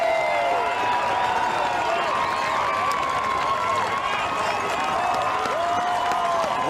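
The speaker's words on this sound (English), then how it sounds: "Listen to the crowd." Baseball crowd roaring after a game-ending strikeout, a loud sustained wall of cheering with whistles and rising voices that stays dense and even throughout.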